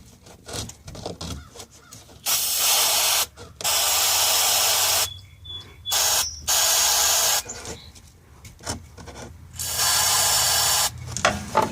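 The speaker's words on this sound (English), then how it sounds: "I'm gonna squirt some grease up in there" Repeated sharp bursts of aerosol grease spray onto car suspension bushings, several long hisses separated by short pauses, with clicks and rattling between them.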